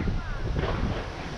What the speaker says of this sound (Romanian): Bate rău vântul ăsta.